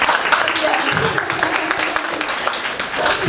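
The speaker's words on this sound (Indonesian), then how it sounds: "Tepuk tangan dulu dong buat semuanya." An audience in a high school mathematics teaching session bursts into applause, a dense, even clapping that fills the room and holds steady for a few seconds.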